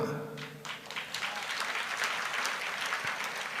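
An audience at a church sermon claps, a dense, sustained burst of applause from many hands, fairly close and even throughout, with a voice faintly present beneath it.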